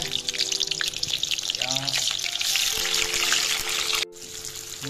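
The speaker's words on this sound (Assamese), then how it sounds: "বঢ়িয়াকৈ ভাজি আছোঁ। এতিয়া ভালকৈ ভাজি ল'ম।" Onions sizzle and crackle in hot mustard oil in a pan, a steady bright frying hiss with a brief voice partway through.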